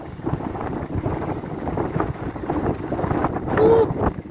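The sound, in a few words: strong wind before a thunderstorm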